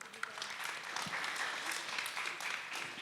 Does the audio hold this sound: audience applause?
yes